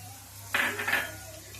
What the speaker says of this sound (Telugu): ఆయిల్ పెట్టానండి బాండీ తీసుకొని. ఒక ఉల్లిపాయ వేస్తున్నా.